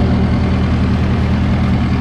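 A hay farm tractor's engine idles loud and close in a steady, unbroken low rumble, with no one talking.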